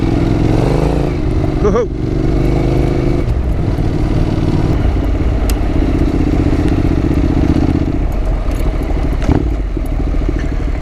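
Honda NC750X motorcycle riding up loose gravel toward a ridge top, a loud steady engine drone with gravel crunching and clattering under the tires, plus a brief shout from the rider.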